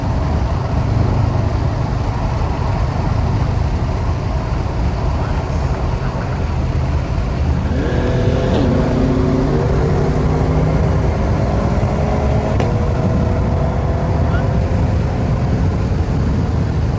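A Chevrolet Corvette engine drones at night during a rolling drive, a low steady hum buried under constant road and wind roar, with a faint rising engine tone emerging partway through.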